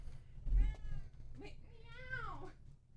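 A person imitates a cat's meow with a drawn-out, rising-and-falling vocal whine, close and fairly quiet, after a moment of low background rumble.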